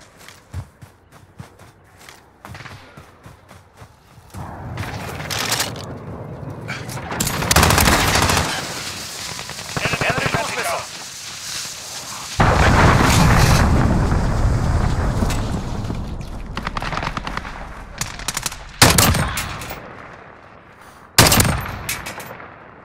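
Bursts of SA-87 rifle gunfire in a first-person shooter match, starting as sparse clicks and steps, then sustained loud volleys with overlapping shots and impacts, ending in a few sharp single reports.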